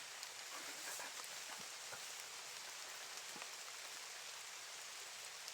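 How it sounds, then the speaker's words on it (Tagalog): Heavy rain pours steadily on a mountainside, a dense continuous hiss of drops on surfaces with scattered close patters, heard alone without voices. "Makas na yung ulan idol."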